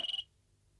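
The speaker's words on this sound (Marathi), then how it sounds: "फोन आहे आता." A telephone bell rings in one short burst of rapid pulses indoors, then stops abruptly.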